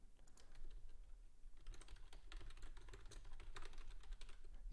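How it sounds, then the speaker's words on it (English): Typing on a computer keyboard while setting stock alerts, a quick irregular run of soft key clicks in bursts, close but quiet against a faint background hum, no speech. "if you do hear typing, that's just, yeah, I'm making alerts"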